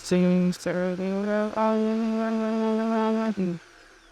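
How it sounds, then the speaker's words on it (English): A steady, loud blender whir blending a coffee drink runs for a few seconds with brief dips in pitch as it starts and stops, then cuts off. "now there'll be a bit of noise to blend it"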